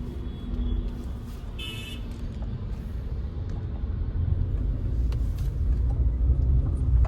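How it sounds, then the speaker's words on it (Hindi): A car cruising along a road after a fresh service, its steady low engine and road rumble building gradually, with a brief high tone partway through and no talking. "सर्विस के बाद गाड़ी मक्खन चलती तो है"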